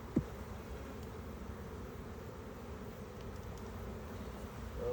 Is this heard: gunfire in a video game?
no